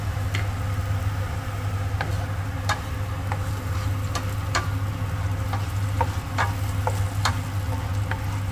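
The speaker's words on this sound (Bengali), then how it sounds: "মশলাটা কষা চলছে" Spice paste fries in a pan for a basa fish curry, giving a constant close sizzle with scattered sharp pops and ticks over a low steady hum, with no voices.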